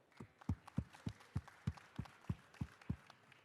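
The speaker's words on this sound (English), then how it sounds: "Maybe can we clap for her?" Audience at an African Continental Free Trade Area business panel on value chain development claps for the newly confirmed president of the Africa Business Council, a faint, steady run of about ten evenly spaced claps.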